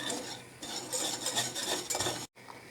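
A utensil scrapes and stirs flour toasting in a pan for a soufflé, a steady close rasping with brief pauses and one short gap near the end.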